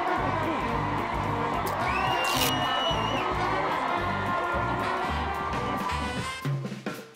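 A large crowd cheers and shouts continuously in the video game Stick It To The Man, a dense wall of voices with whoops, swelling throughout and dropping away at the end.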